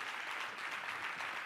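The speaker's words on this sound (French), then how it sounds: "On l'accueille sous vos applaudissements nourris" Faint, distant audience applause welcoming a guest on a French broadcast, an even continuous patter of many hands with no individual claps standing out.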